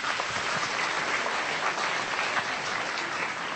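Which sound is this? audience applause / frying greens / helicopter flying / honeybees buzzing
audience applause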